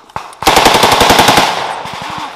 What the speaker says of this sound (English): Kaiser, shoot!